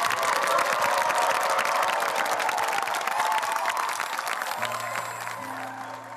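A large audience claps and cheers loudly to welcome a band onto a stage, the applause steady before fading slightly as music begins underneath.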